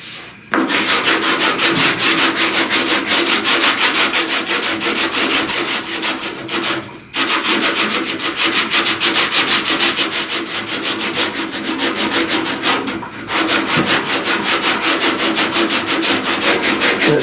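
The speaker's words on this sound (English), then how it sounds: "at some point, I will have to start sanding like this around this crease" Body filler being sanded on a dented truck cab corner: a loud, close, steady rasping scrub running almost nonstop, broken only by two brief pauses, with no voices.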